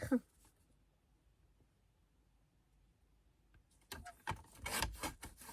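Scrapbooking card paper being cut, with a brief scrape at the start, a long quiet pause, and then a rough rasping cut up close for the last second and a half.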